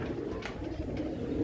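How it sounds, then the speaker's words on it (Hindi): A flock of dub breed pigeons coos softly in low, rolling murmurs, faint and continuous against a dull background hum. "ये डब वाले कबूतर हैं सारे।"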